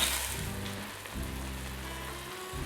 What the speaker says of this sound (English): Now we're going to add our red wine. I want to reduce this down by half.